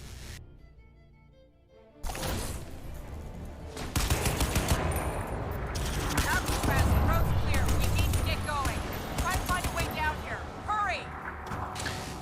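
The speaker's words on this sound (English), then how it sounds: "Enough hip firing a heavy machine gun." Heavy machine gun fired from the hip in the shooter game Crysis 2 Remastered, a loud, sustained rapid burst of gunfire after a quiet opening, with game effects and chirps layered over the steady rattle.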